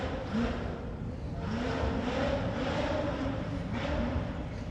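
An Ultra4 off-road race car is driven hard through Can-Am corner, its engine roaring loudly and steadily with revs rising and falling.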